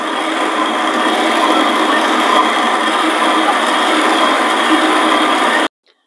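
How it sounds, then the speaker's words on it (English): A motorized Country Living burr grain mill grinds grain in a loud, continuous, even rasping drone that stops abruptly near the end. "I will be using the Country Living Grain Mill for all of the grains in my video"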